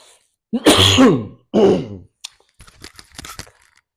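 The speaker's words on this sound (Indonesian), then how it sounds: "batuknya masih belum hilang" A man clears his throat and coughs partway through a religious talk. A sharp throaty burst is followed by a second one, then a few quieter rasps and short breathy sounds, all close to the mic.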